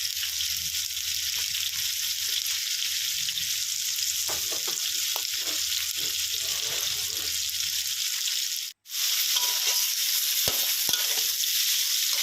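Pork and carrots stir-fried in a hot pan, giving a loud, continuous hiss with soft stirring scrapes and a brief gap before the sizzle resumes.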